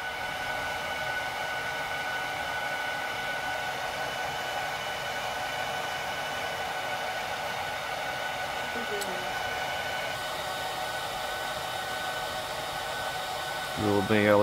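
An HP ProLiant DL380 G8 server starting up drives its cooling fans in a loud, steady rushing whine that stays constant and then climbs sharply in the final second.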